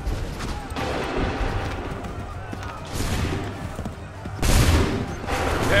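Musket volleys in the Assassin's Creed III Battle of Lexington, with crackling bursts of gunfire rolling through a noisy battlefield under shouted voices, the loudest volley landing near the end.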